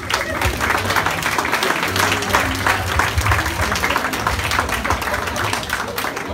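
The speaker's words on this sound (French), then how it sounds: "On l'applaudit, mesdames et messieurs." A crowd applauds steadily and loudly at a kizomba dance competition night in a Guadeloupe hotel, with dense clapping throughout and no speech over it.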